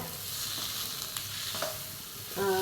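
Chopped tomato frying in a pan for egg roast gives a steady, dense sizzle that holds throughout, with a few stirring scrapes and a brighter bubbling crackle near the end; no one speaks.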